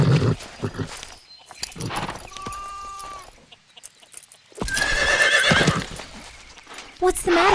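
Horse neighing in a stable in the video game Ellen Whitaker: The Horse Mystery, loud whinnies and snorts close by alongside hoof clip-clops, with bursts of talking and game music between them.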